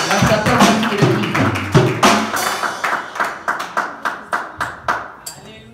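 A church congregation claps in rhythm, the pattern soon settling into evenly spaced, sharp group claps that repeat about twice per second, with some voices and busy sound mixed in early on.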